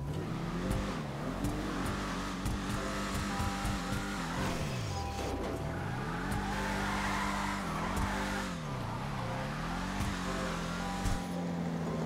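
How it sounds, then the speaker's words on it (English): A rumbling muscle-car engine, the Declasse Tampa GT in GTA Online, revs up and down repeatedly, rising and falling in pitch as gears shift, with occasional tire squeal. "it just kind of sounds like every other muscle car I've ever driven"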